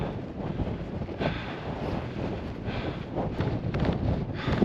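A cold, steady wind roars and buffets the microphone on the summit of Flattop Mountain, a dense, continuous rumble with gusts swelling and easing throughout.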